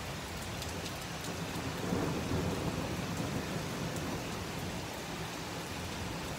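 Heavy rain pours steadily in Texas with thunder rumbling through it, a dense continuous roar of downpour with a swell of low rumble partway through, no voices.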